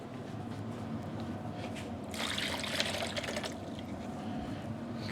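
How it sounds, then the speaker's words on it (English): Water from an indoor seedling tray is emptied out as a steady trickle, swelling into a brief, louder splashing pour midway before settling back into a soft continuous dribble. "You want to empty that out."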